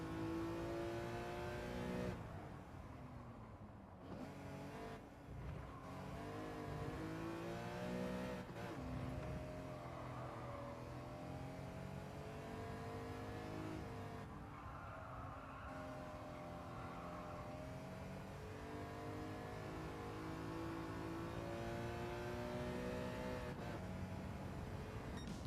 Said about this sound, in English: Oh, look, we're driving a BMW M3.